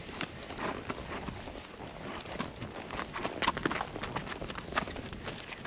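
Several horses' hooves clop irregularly on hill ground while walking toward a crossing, a loose scattered rhythm of moderate loudness nearby.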